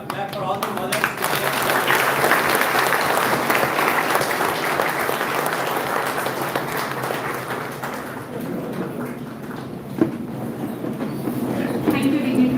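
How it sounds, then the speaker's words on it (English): An audience at an academic session inauguration ceremony in Bangalore claps for the mothers, a dense, sustained wave of applause that fades after about eight seconds, with voices mixed in. "Clap for all the mothers."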